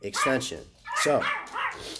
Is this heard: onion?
no